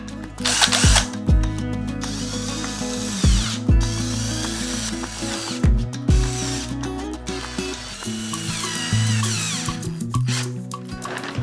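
A power drill drives screws to fix wheels onto the base of a handmade rattan laundry basket, whirring in several loud bursts with ratcheting clicks and short pauses between runs.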